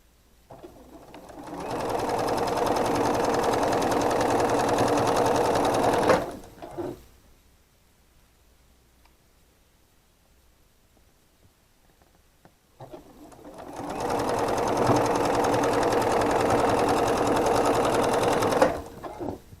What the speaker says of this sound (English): now I'm ready to sew